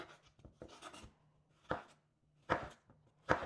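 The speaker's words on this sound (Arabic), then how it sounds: "ودلوقتي هبتدي اقطع في الخيار." A knife chops cucumber into small pieces on a board, with sharp, separate close strikes coming in uneven bursts and short pauses between them.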